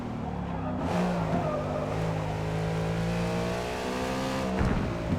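A race car engine drones steadily in Forza Motorsport (2023), sustained and close with a held, slowly shifting pitch, the drone dipping briefly near the start and again near the end.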